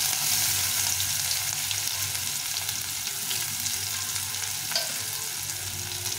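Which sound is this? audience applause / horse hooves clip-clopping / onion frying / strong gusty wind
onion frying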